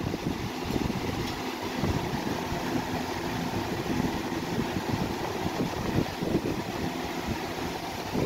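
A Lasko B20100 box fan, freshly cleaned with its motor oiled, runs with a steady broadband whoosh of moving air and a low, even hum, constant throughout and close by.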